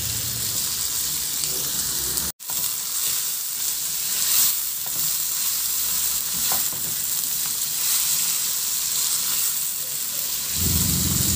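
Tomatoes frying in a hot pan, a dense continuous sizzle close up with occasional stirring, and a brief cut partway through.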